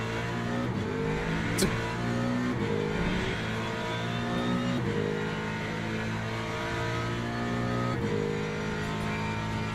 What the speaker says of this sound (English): Here comes the hypercars.